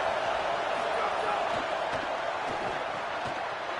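Stadium crowd roar in the college football video game CFB 27: a dense, steady wash of distant crowd noise that stays level without any clear peaks.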